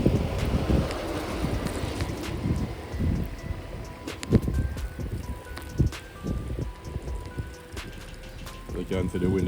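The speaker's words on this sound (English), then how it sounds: "You can see the wind is whipping up the snow around the surface." Wind whipping up snow during a snowstorm in the USA, gusty buffeting roar with bumps against the microphone, while a voice talks over it.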